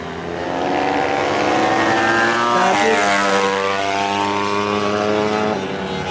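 Racing motorcycles pull out of parc fermé in a PV-category race, their engines revving and droning loudly with rising and falling pitch as several machines pass close by.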